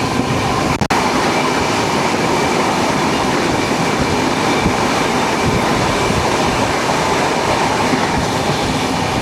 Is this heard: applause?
no